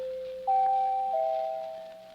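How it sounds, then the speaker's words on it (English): A new doorbell at a judge's freshly painted house chimes, a sustained two-tone electronic ding-dong with the second note sliding lower, fairly loud and close in an otherwise quiet doorway. "New doorbell, too."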